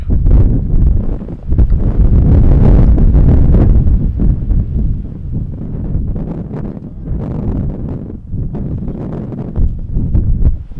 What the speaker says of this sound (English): These gusts are getting rough.